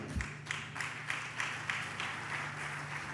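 A church congregation applauds the Lord during a sermon, a soft, even patter of many hands with faint rhythmic pulses, heard somewhat distant and without voices.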